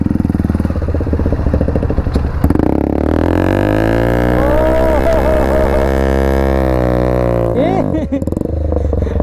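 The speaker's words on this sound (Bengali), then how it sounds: "বার্ন আউট মারবি?" A KTM Duke 390 motorcycle does a burnout. Its engine roars loudly and close by, rising in pitch as it is held at high revs, then drops sharply near the end before revving again.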